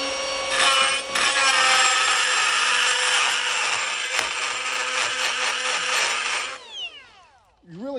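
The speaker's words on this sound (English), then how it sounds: "You really can't beat when you've got to actually do some shaping or something like that to use these carbide burrs" A carbide burr on a power tool grinds steel held in a vise, a loud continuous high whine for about six seconds that winds down in pitch as the tool spins to a stop.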